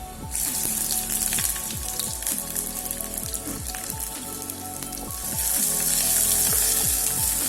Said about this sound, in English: After few seconds, add the diced onions.